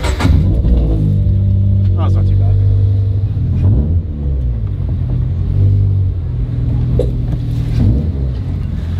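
A loud modified car engine revs at a car meet, rumbling deep and close with repeated throttle blips and surges. Chatter from nearby people sits underneath the engine noise.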